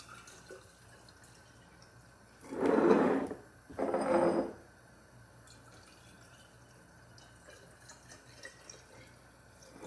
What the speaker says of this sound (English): take some of your water, put it back in the jars